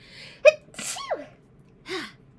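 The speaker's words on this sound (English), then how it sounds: "I have a sneeze." A single sharp sneeze with a quick intake of breath before it, followed by a brief sniff-like exhale, close and alone.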